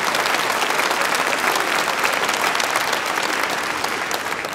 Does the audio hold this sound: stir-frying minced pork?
no